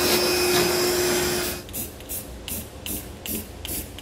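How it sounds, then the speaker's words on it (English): A vacuum cleaner runs loudly, sucking up metal shavings from drilling during a gooseneck trailer hitch installation on a 2020 Toyota Tundra, then cuts off and leaves only faint scattered noises. "I'm going to use a vacuum as well to get rid of all the shavings"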